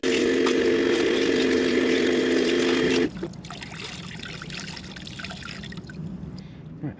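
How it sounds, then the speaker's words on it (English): Hot water runs and splashes steadily while a motorcycle air filter from a Kove 450 Rally is rinsed, a loud continuous rush that cuts off abruptly partway through, leaving quieter dripping and handling noises. "It's so hot that the water coming out of this is, you could shower in it."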